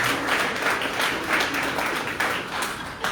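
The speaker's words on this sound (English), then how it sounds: "we can give them a round of applause" Audience applause for event organizers standing up, a steady, fairly close crowd of clapping hands with a few sharper claps popping out, continuing without a break.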